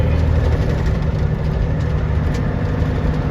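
A John Deere combine harvester runs in a field during harvest, a constant low heavy engine rumble and drone at steady loudness, no voices.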